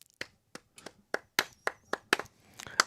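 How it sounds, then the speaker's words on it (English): Slow golf clap: about a dozen sharp, separate hand claps, unevenly spaced, close and moderately quiet, with no talking. "Golf clap"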